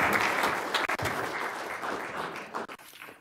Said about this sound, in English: if you would please join me in a round of applause for all participants